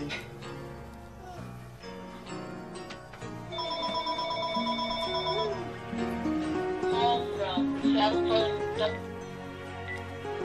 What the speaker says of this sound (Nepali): यो फोनले पनि दिक्कै लाउँछ घरमा बसेर